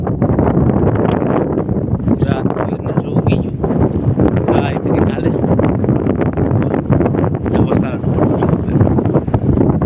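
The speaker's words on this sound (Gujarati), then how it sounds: "જો આ પવનનું ફૂંકું મારે હો મિત્રો" Strong wind roars against the microphone without pause on open farmland, a loud, steady buffeting rumble that fills the whole stretch.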